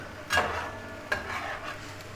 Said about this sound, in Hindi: अब देखें यहाँ पे घी बेसिकली इसको अभी घी प्याज के साथ मिक्स हो रहा है।